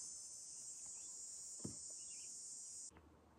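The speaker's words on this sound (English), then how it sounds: "The cicadas are out." Cicadas buzzing outdoors, one steady, loud, high-pitched drone that holds for nearly three seconds and then cuts off abruptly, with a faint knock near the middle and no talking.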